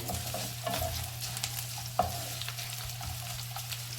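Cashews and curry leaves roasting in ghee in a pan for bisi bele bath, a soft steady sizzle with occasional stirring scrapes and one sharp clink.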